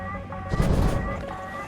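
An AH-64E helicopter fires its guns in War Thunder, a burst of heavy booming gunfire that swells in the middle over a steady engine drone.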